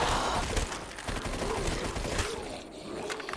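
Rapid gunfire rattles in the Call of Duty Custom Zombies mode, a dense burst of repeated shots that dips briefly near the end before resuming, loud and close.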